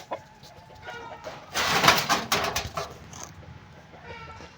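Calls from red kaki roosters and other fowl, mostly faint with a louder burst in the middle, against a busy outdoor background.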